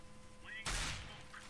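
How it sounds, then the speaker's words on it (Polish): A single sharp gunshot bursts out in a Counter-Strike: Global Offensive match, close and loud, then rings off briefly over quiet game background. "No, strzał chyba niecelny."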